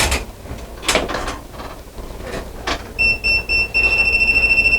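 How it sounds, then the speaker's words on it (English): A handheld voltage tester pressed to live wiring while installing a pendant light beeps in rapid high-pitched pulses that speed up into a near-continuous tone, following some handling clicks and rustle. "you would just take your tester, put it up against it. If it beeps like crazy, you know there's power."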